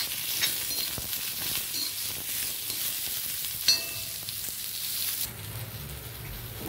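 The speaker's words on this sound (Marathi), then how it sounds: "मग याच्यात कांदा टाकून घेऊया आपण। कांद्याला पण आपण लालसर करून घेणार आहोत।" Onion frying in a pan until browned for a Konkan-style cashew curry, a close continuous sizzle with intermittent stirring scrapes and a clink near the middle, no voices.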